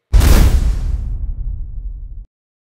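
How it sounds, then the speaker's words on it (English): Layered explosion effect for a remote-control tank battle, mixing a fire blast and a metallic explosion: a sharp bright burst with a whooshing crackle over a deep rumble that sustains for about two seconds, then stops abruptly. "On top of that, I put a little bit of a fire explosion sound and a little bit of a metal explosion."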